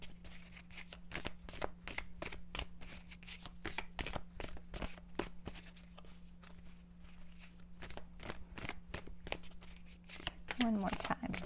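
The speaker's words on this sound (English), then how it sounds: "So we're going to shuffle a few times here." Tarot cards are shuffled repeatedly at close range, a run of quick riffling snaps and soft flutters with irregular rhythm over a steady low hum, and a brief higher sound near the end.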